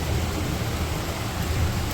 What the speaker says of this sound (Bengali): বৃষ্টিও নামতেছে আর আকাশে অনেক বিদ্যুৎ চমকাইতেছে